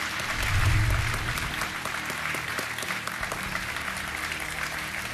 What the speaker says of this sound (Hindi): तालियों के साथ आपका स्वागत।